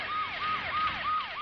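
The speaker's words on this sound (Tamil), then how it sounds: "சைலன்ஸா பேசுறதுக்கே சைரன் அலறுது பாரு" A police siren wails in a fast repeating rising-and-falling sweep, about five cycles in quick succession, steady and fairly loud, alone without voices.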